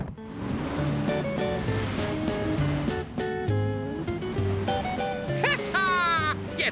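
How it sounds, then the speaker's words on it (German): Cartoon ocean waves wash and surge steadily beneath bright music and sound effects, a loud continuous roar of surf that ends in a rising whistle-like flourish. "Mann, das sind aber ganz schön viele Wellen"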